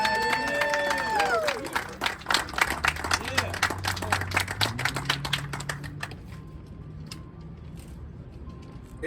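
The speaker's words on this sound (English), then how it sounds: "I'm going to ask you guys to give a round of applause for Congressman Tony Cárdenas" Audience applause for Congressman Tony Cárdenas at a community service award event, a dense burst of clapping with voices mixed in that thins out over several seconds while a voice carries on underneath.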